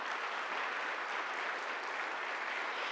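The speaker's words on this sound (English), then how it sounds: "Can we just clap for Joanna?" An audience at a talk on pregnancy and gestational Lyme disease claps for Joanna, a dense, even burst of applause that holds steady and fills the room.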